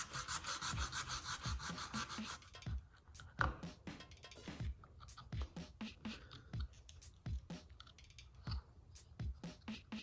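Someone sands a wooden dagger grip by hand and then works it with a chisel. Steady rasping strokes come first, followed by a run of sharp, close scraping cuts and ticks at an uneven rhythm.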